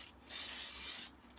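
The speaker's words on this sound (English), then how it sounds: "I'm just going to finish spraying the white now" White spray paint hissing steadily from an aerosol can onto a Tamiya TT02 RC car body shell, a Nissan Skyline R32, during a second coat; one continuous close burst of about a second with a short lead-in.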